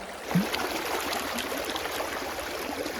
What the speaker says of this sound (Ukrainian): така ріка, що тут тобто, вода максимум десь до, до пояса